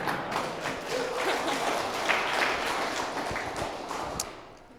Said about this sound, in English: Everyone give her a clap for that answer.